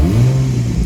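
A 2003 Infiniti G35 with a newer Infiniti muffler fitted, sitting on ramps, gives a brief deep rev through its exhaust, a loud, steady low drone held for under a second.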